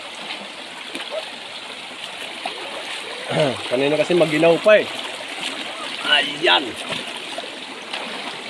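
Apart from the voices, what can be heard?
flowing water at Bilog Falls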